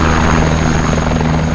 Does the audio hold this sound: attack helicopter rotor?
yes